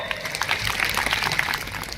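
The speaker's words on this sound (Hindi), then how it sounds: "उन ड्राइवर भाइयों के तालियां बजाई दोस्तों" An outdoor crowd at a speech gathering at a sports complex in Dungarpur breaks into a short burst of dense, steady clapping, fairly loud and close, lasting about two seconds.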